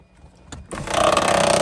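An electric motor in a Mazda 3 race car is switched on for testing, a sudden close whirring hum that starts after a brief click and holds steady and loud to the end.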